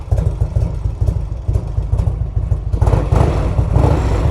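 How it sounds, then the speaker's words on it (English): A motor vehicle engine idles roughly and unevenly, a loud, close, steady low rumble with a slightly irregular pulse and no talking. "Idling a little screwy."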